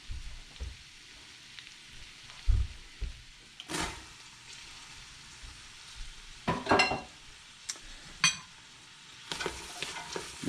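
Celery sautes in a pot for razor clam chowder: a soft sizzle beneath irregular scraping and stirring clatters from a utensil, with occasional louder knocks against the pot.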